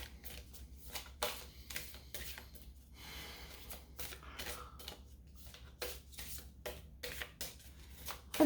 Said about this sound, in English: Let's get you the large runestone cards here.